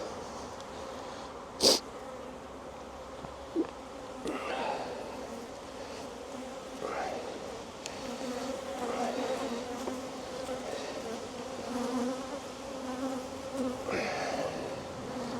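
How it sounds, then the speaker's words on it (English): Honeybees buzz steadily around an open hive on a windy day, a dense droning hum with individual bees passing near, plus a couple of faint clicks and knocks. "Bees are a little bit antsy today with me going in there for some reason."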